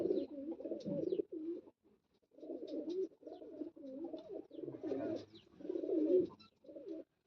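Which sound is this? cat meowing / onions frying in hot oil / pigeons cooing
pigeons cooing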